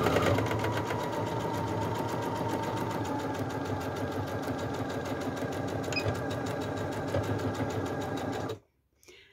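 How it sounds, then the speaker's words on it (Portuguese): A sewing machine runs steadily as it stitches a fabric strip with backstitching, a loud continuous mechanical whir with a fast rhythmic clatter that stops abruptly near the end. "Posiciono a tira na máquina, ajeito direitinho, abaixo a sapatilha e faço uma costura com arremate, sempre no início e no final."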